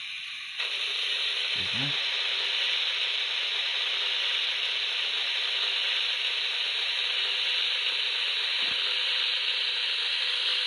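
Steady hissing steam blower effect from a Soundtraxx Econami DCC sound decoder fitted to a Hornby A4 model locomotive, starting abruptly and holding constant throughout, with a brief spoken word near the start.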